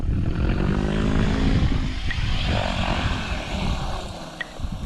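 A radio-controlled helicopter's motor at idle during autorotation practice outdoors, a continuous whirring rotor and engine drone with a steady low throb, fairly loud and close, its pitch wavering slightly as it passes.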